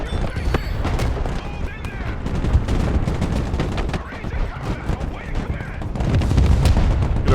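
Artillery fire in the Broken Arrow war game, a dense run of booms and gunfire bursts rumbling continuously throughout, with voices talking underneath.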